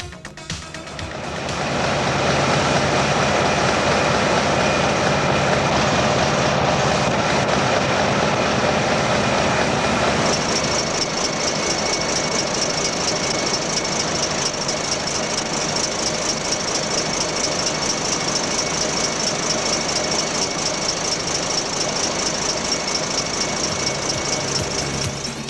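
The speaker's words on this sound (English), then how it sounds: "testing the output and control characteristics of the engine in the testbed station" A diesel engine runs steadily on a factory testbed station during output and control testing, a loud, continuous rumbling drone with a whining overtone that swells in the first seconds and holds constant throughout, with no voices.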